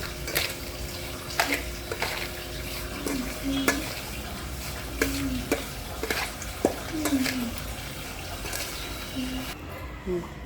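Roasted wheat semolina being stirred with powdered sugar in a pan, repeated spoon scrapes and knocks against the metal over a soft background hiss, with faint voices at times.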